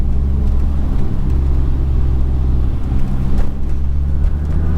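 The five-cylinder engine of a big-turbo Volvo S60R with all-wheel drive and a stick shift drones steadily with a deep, loud rumble, heard from inside the car, with no talking.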